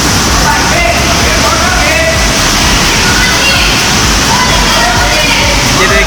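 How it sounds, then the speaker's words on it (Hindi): Floodwater rushing over the roof of a satsang hall after heavy rain in Jeen Mata, Sikar, a loud continuous roaring wash that fills the scene, with someone talking faintly beneath it. "सत्संग भवन के ऊपर से पानी चल रहा है इस वक्त"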